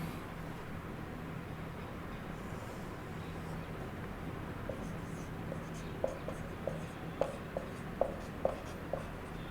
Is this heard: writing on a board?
yes